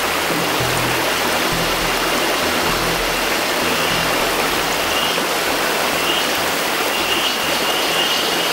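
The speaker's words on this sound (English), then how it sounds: "Hear fresh water flowing through the forest." A fresh-water stream rushes steadily over many rocks in a forest, a loud, continuous broadband wash with no breaks and no voices.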